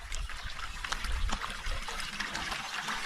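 Water in a wooded rural creek trickles and babbles continuously, close and moderately loud, with small splashes throughout and no talking.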